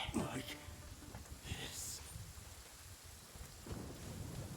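Steady rain falls with low thunder rumbles in the video game Genshin Impact. The storm sounds moderately faint and continuous, with a few brighter splashes in between.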